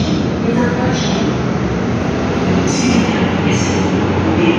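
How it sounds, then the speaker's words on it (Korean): A Seoul Line 1 subway train pulls into underground Jongno 3-ga station, a loud, close, continuous rumble of rolling wheels with faint high squeals rising above it. "The train for Seoul Station is approaching."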